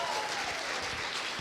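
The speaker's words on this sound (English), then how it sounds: "Let's give them a big round of applause." A symposium audience gives a brief burst of applause, continuous clapping at a fairly soft, even level lasting just over a second.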